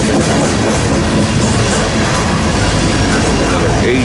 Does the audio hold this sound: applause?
no